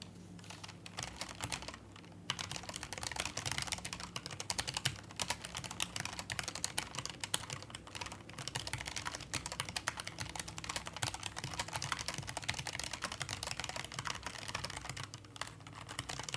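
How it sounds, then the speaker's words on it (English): Fast, dense clatter of a loud computer keyboard being typed on, close and continuous with brief pauses, no talking. "I know my keyboard sounds like I'm typing really, really fast"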